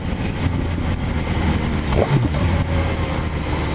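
A steady BMW S1000 R 2017 inline-four motorcycle engine running near, a constant low rumble with a faint rising tone partway through, no voices.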